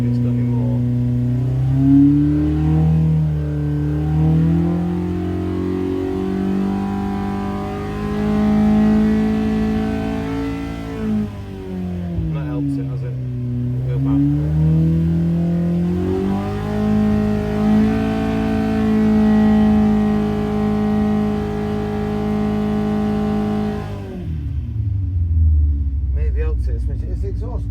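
Triumph TR6 engine with mechanical fuel injection, run on a dyno, revving up and holding steady in a loud, continuous drone that rises and dips over about half a minute before dropping away at the end.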